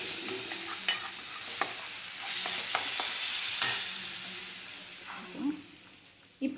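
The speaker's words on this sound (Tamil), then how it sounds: "நம்ம இப்போ போட்டு நம்ம வதக்கிட்டே இருக்கும் போது" A spoon or spatula stirs and scrapes food sautéing in a pan, soft steady sizzling punctuated by a dozen or so sharp clinks and taps against the metal, close and without any talking.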